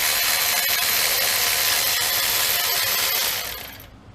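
Close, continuous rapid ratcheting as a hand ratchet backs out the 12mm bolts of the upper alternator bracket on a 2012 Honda Accord V6, one bolt threading into the aluminum head, running steadily before trailing off near the end.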